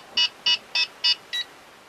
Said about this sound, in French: j'ai entendu, comme vous, hein, bip, bip, bip, bip, et puis un petit bip à la fin.